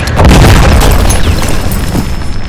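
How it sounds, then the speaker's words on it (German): A single anti-tank rifle shot and its explosion boom loud and close in a war video game, followed by a rolling, rumbling decay over a couple of seconds. "Er schießt mich mit einer Panzerbüchse ab."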